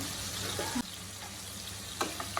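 Prawns frying in a pan for Bengali prawn malaikari, a steady close sizzle with a sharp break partway through and a few clinks of a utensil near the end.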